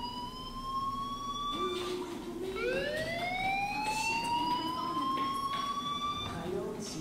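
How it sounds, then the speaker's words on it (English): A fire alarm or siren wails steadily, sweeping upward in pitch and holding a loud, piercing tone throughout, with faint background noise beneath. "do you hear that fire alarm?"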